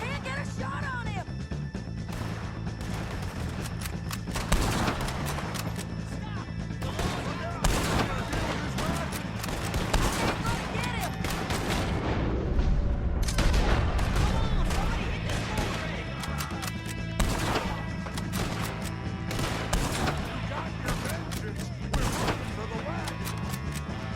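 Gunfire crackles in Red Dead Redemption 2, with repeated sharp shots and volleys scattered through a tense scene, a heavier crash-like burst midway, and voices speaking beneath the firing.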